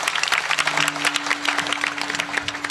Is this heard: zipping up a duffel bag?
no